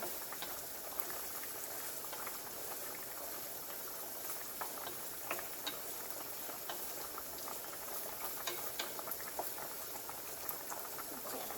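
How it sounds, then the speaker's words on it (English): 80/20 ground beef sizzling and crackling in a pan, a steady close hiss with fine popping that carries on evenly throughout, with no talking. "Let that cook a little bit more. Then my ground beef is just about done."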